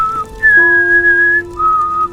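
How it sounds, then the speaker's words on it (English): A character in the Skyrim mod Enderal Forgotten Stories whistles a short tune, with clear sustained pure notes that shift pitch in a few long held phrases over a faint game ambience, close and loud, with no talking. "He's whistling with his mouth closed."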